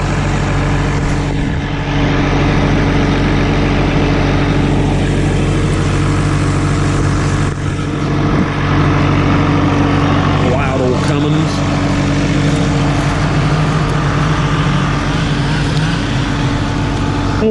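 An old Cummins diesel engine in a log skidder idles with a steady, close, mid-pitched rumble that holds constant throughout.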